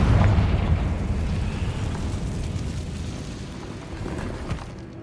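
A Confringo fire spell bursts in Hogwarts Legacy with a loud, deep boom that rolls on as a rumbling, crackling blast and slowly dies away over a few seconds.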